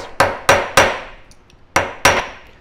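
A hammer strikes a metal rivet to flatten it in a metal shop, five sharp ringing blows close by, three in quick succession, a pause, then two more, each decaying quickly.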